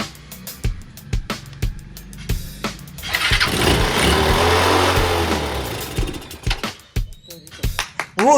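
A restored Bajaj Pulsar motorcycle coughs to life after clicks of the starter, the engine catching and running loudly for a few seconds before dying back to sharp mechanical clicks and taps.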